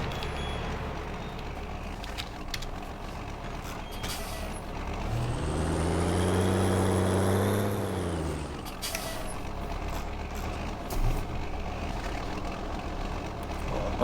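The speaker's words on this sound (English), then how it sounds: "this tractor sounds so cool" A tractor engine in Farming Simulator 19 on an Irish farm rumbles steadily, swelling into a louder rising and falling drone in the middle before settling back to a constant idle.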